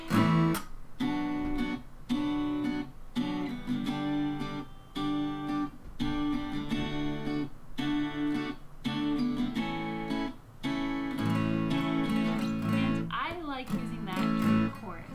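An acoustic guitar strums a steady rhythmic pattern of chords, bright and close, with short muted breaks between strokes and a slide near the end.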